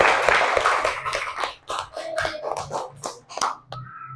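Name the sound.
class applauding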